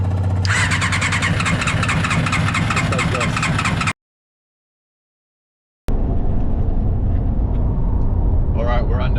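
An outboard motor on a jet boat cranks and revs loudly for a few seconds, goes silent, then runs again with a steady mechanical drone.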